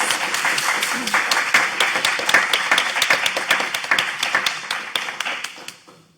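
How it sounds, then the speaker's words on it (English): A small audience claps after a panel discussion on guns at polling places and protests, with distinct individual claps in a brisk, fairly close patter that thins toward the end. "please join me in a round of applause"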